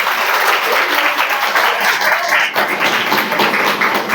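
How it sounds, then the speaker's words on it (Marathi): An audience at a lecture series event bursts into loud, sustained applause, dense clapping from many hands filling the whole stretch. "जोरदार टाळ्या वाजवा एकदा."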